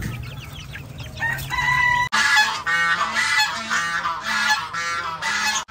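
Large domestic ducks honk loudly and repeatedly at close range, with a burst of overlapping harsh calls that becomes a near-constant chorus.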